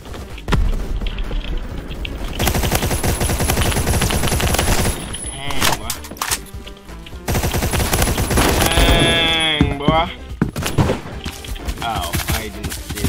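Gunfire from the video game Phantom Forces, including a Model 870 shotgun, rattling in dense continuous bursts through most of the stretch, with short gaps and a few quieter moments between volleys, loud and close, mixed with game noise.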